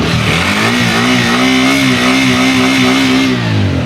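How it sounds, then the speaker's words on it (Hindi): TVS Apache 200 4V motorcycle engine revving loud and close, a steady buzzing exhaust note held high before easing off at the end. "गाड़ी को स्टार्ट कर लेते हैं।"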